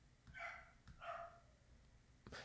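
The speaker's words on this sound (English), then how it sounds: "my dog's barking right now" A dog barks in a residential neighborhood, two moderately loud barks about half a second apart followed by a brief third yip at the end, heard alone against quiet background.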